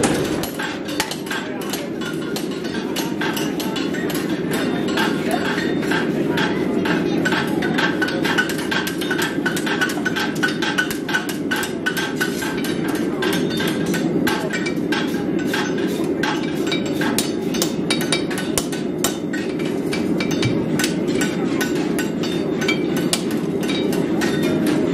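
Farrier hammering hot metal at a forge, a steady stream of sharp metallic strikes and clinks repeating throughout over a constant low background rumble.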